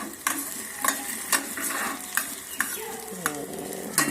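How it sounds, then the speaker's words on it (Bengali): An egg fries in a pan for Maggi noodle pakora with a steady close sizzle, punctuated by regular sharp clinks and scrapes of a spatula stirring against the metal. "তো ডিম ভাজা হয়ে যাচ্ছে"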